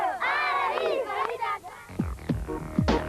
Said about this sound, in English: But all delighted to see the bikes past and cheer them on.